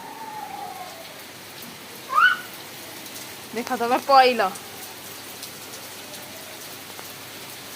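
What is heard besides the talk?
heavy rain falling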